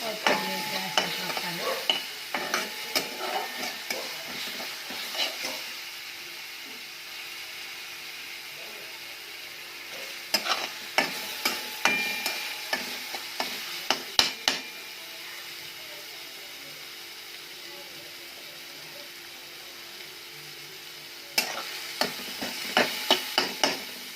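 Chuka greens with green chili being sautéed and stirred in a pan: a low sizzle runs underneath, broken by bursts of sharp spatula clanks and scrapes against the metal that come in clusters, with a few brief words spoken.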